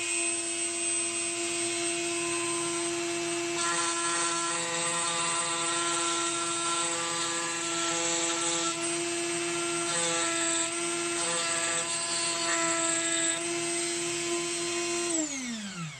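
A rotary tool fitted with a large cutting bit carves into MDF, giving a steady high-pitched whine with grinding texture that holds for many seconds, then spins down at the end.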